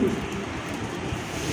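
Andalusian-coloured pigeons in a loft coo softly amid a steady hum of background noise, low and continuous without distinct peaks.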